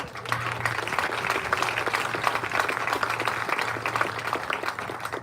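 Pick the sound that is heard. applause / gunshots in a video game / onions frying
applause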